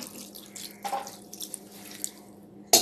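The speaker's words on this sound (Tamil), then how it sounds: "லைட்டாக கொஞ்சமாக தண்ணி ஊற்றினா போதும்." A little water is poured into a pot while cooking a Tamil boti kuzhambu, a soft trickling splash with faint drips, quiet and alone before a sharper clink at the end.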